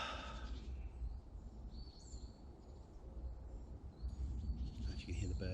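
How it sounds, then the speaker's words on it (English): Faint bird chirps and calls in the UK in March over steady low rumbling background noise, with a few brighter tweets toward the end. "If you can hear the birds and that."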